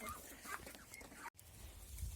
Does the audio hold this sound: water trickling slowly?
no